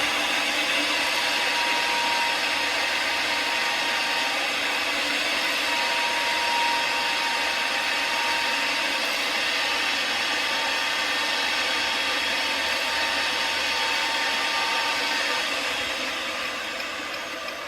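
A pipe groover cuts a groove into a pipe with a loud, steady mechanical whirring and grinding drone that continues for the whole stretch and eases off slightly at the end.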